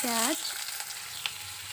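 Onion, green chilli and whole spices such as mustard seed, cumin, bay leaf, cardamom, cinnamon and black pepper frying in a pan for an Indian fish and cabbage dish, a steady close sizzle with one brief stir clink.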